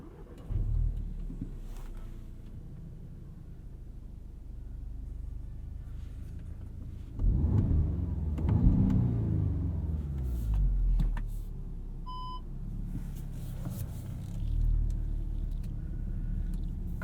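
A 2016 Audi S3 sedan drives on the road, its engine a steady low rumble heard from inside the cabin, swelling as it accelerates around the middle and easing back, with no talking.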